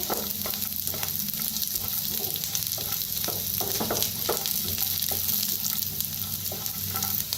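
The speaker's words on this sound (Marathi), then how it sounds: "सगळं मिक्स करून भाजते" Eggplant and potato pieces fry in a pan with a continuous close sizzle and crackle, broken by soft scraping and stirring sounds.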